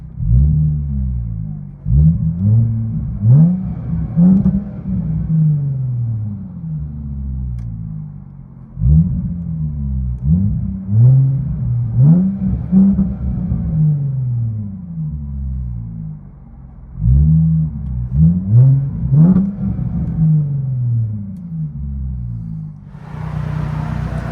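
Cabin view of a 2017 Jaguar F-Pace 3.0L supercharged V6 with Dynomax Bullets exhaust: three rounds of rising revs that climb and fall back to idle, a muffled but strong engine drone from inside.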